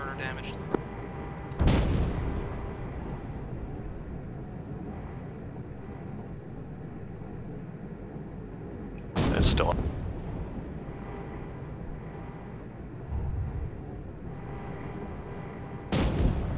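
Heavy tank cannon fire and explosions in a military shooter game boom out in three loud, separate blasts spread several seconds apart, with voices in the background.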